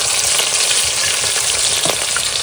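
Fish frying in a pan of hot oil, a loud dense sizzle close by, constant and crackling throughout with no voices.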